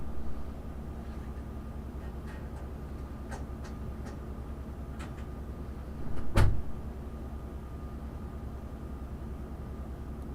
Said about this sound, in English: You probably just heard the door getting slammed as well.